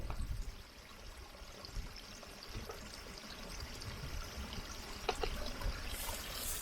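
Water trickles at a mountain stream source on the western fells of the Lake District. It makes a soft, steady outdoor babble of running water, fairly faint and continuous, with a brief brighter splash near the end.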